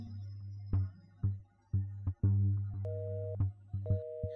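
A telephone rings repeatedly in an electronic pattern, short bursts separated by brief pauses, loud and close, with no one picking up.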